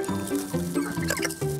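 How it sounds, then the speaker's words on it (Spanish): Eight hens clucking on a farm in Conchagua, repeated close clucks and short calls overlapping in an irregular rhythm, clear and without talk. "por eso decide iniciarlas alimentando a sus 8 gallinas"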